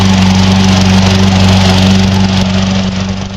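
An old Toro gas lawn mower runs close by with a loud, steady engine drone that holds throughout and eases off slightly near the end, with no talking.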